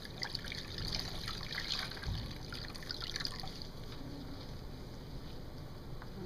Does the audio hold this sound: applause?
no